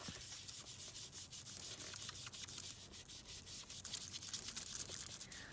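Soft steady rubbing as ink is worked onto the inside of a paper envelope flap, a quiet continuous scratchy swish with faint strokes running through it, close up and with no voices.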